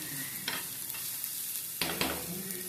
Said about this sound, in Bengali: দেখো, পেঁপে ভাজাটা আমার হয়ে এসেছে